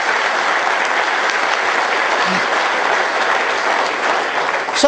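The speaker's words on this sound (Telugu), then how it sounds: "ఆ వ్యక్తికి ఒకసారి క్లాప్స్ కొడదాం సార్" Sustained applause from an audience at an event marking the Vivekananda 150th birth centenary, steady and dense throughout with no pauses, the many clapping hands blending into one even wash of sound.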